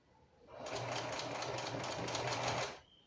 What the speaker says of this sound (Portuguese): eu vou terminar essa costura aqui da frente